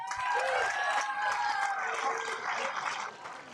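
Crowd applause and cheering at a junior high girls' cross country race awards, steady dense clapping filling the whole stretch near and loud, tapering slightly at the end.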